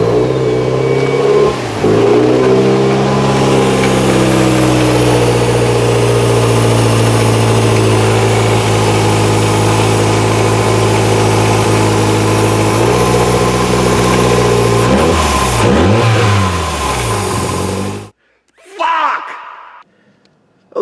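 A Toyota MR2 with a 3S-GTE turbo engine and its exhaust open cranks and fires, then runs loud and rough with several revs rising and falling before cutting off abruptly. A brief voice follows in the quiet.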